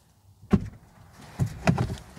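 From inside a Volkswagen ID4 electric SUV, someone tries the door: a few soft clicks and thumps of the handle and latch, close and muffled, with no voices.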